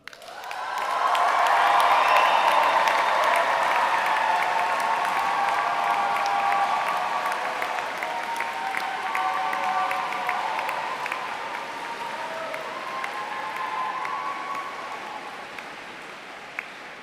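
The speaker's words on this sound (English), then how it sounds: "can I please have your loudest cheer and applaud for all of your friends, family and supporters?" A graduation crowd in Canterbury Cathedral cheers and applauds for friends, family and supporters, a loud swell of clapping mixed with shouts and whoops that rises quickly, peaks early, then sustains and slowly thins in the reverberant space.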